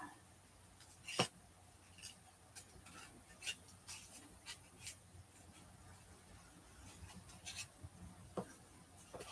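Scissors snip slowly through stamped paper cardstock, giving soft, faint rustles and small crisp clicks close by in a quiet room, with a sharper cut near the start and another near the end.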